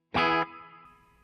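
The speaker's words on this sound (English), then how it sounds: "and the large plate reverb on" A single electric guitar chord through a Fender Tone Master Pro rings out loudly, then a long, shimmering large plate reverb tail slowly decays for about a second.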